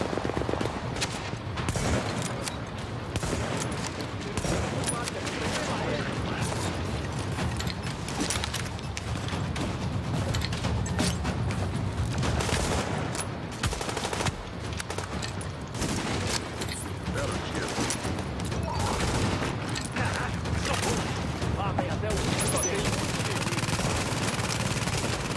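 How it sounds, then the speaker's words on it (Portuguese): Sustained automatic gunfire from turrets rattles through a shootout in the video game The Division, dense and loud almost without pause, with bursts overlapping and a faint voice now and then beneath the shooting. "Então, um tiroteio de torres."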